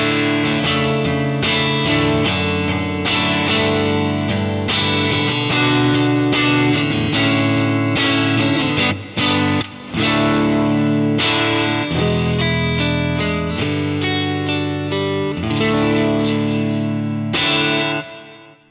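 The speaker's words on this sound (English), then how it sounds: "That sounds like an electric guitar." Electric guitar played through a Kemper profile of a '65 Deluxe Reverb amp, loud and continuous with strummed chords and single notes, a slight crunch and a reverb tail, played alone with no talk.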